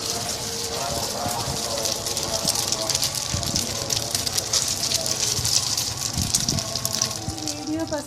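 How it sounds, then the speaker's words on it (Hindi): Egg-coated chana daal and potato kebabs frying in a pan, with a steady, close hiss and crackle of hot oil sputtering throughout, and a voice speaking softly underneath. "अब हम इसको फ्राई करने जा रहे हैं।"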